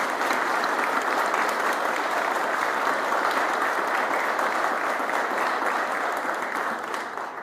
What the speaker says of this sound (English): Please, let's honor them with our applause.